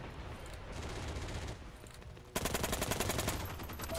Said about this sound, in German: Mal kurz schießen